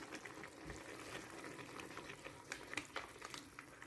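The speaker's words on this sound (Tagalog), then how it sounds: "Luto na po yan guys, pakukuloy na lang natin yan." A pot of chicken adobo with pineapple tidbits simmers with a soft, continuous bubbling and sizzling. A few slightly louder pops come near the end, and no voices are heard.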